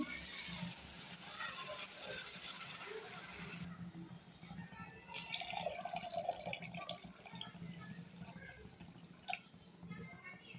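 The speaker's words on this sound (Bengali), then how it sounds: "আর মশলা কষানো হয়ে গেছে এখন দিয়ে দেবো পানি" Water goes into a pan of cooked-down fish masala for a spicy shing and pangas fish bhuna. A hissing sizzle gives way to splashing, dripping liquid sounds nearby, with a sharp clatter near the end.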